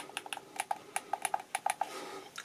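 Thumbstick on a Hori Split Pad Pro controller for the Nintendo Switch being clicked in repeatedly, giving a string of quiet, sharp, close plastic clicks at an uneven quick rhythm, with a louder knock at the end.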